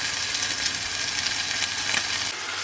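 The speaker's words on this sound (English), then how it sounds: "Probably not the best audio because my steak is sizzling" Steak frying in a hot pan with garlic herb butter, a loud, constant hiss and crackle of sizzling fat close by, cutting off abruptly near the end.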